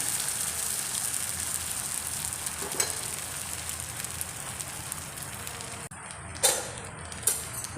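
Beaten egg mixture sizzles on a hot dosa pan with a steady, loud frying hiss, broken near the end by a couple of sharp utensil clinks.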